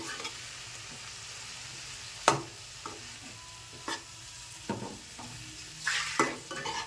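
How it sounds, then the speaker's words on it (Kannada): Chopped tomatoes frying with onions in oil in a pan, a soft continuous sizzle broken by several scraping stirs and clinks of a spoon against the pan, close and without talk. "ಟೊಮ್ಯಾಟೊ ಎಣ್ಣೆ ಬಿಟ್ಕೊಳ್ಳೋವರೆಗೂ ಫ್ರೈ ಮಾಡ್ತಾನೆ ಇರಬೇಕು"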